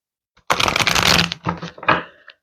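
A deck of playing cards is riffle-shuffled up close: one long crisp flurry of flicking cards, then two shorter bursts as the deck is bridged and squared, with no talking.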